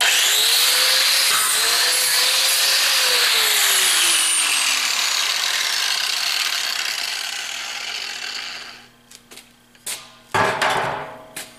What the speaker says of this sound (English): I'm also gonna put a bevel in the end here for the weld to seat good. I'll still use the flat disc to do that.